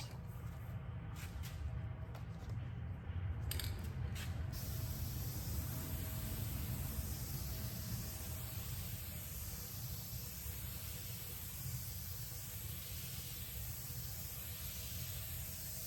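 Matte clear coat sprayed onto a piece of furniture, a soft, continuous hiss that holds steadily throughout with only slight variation.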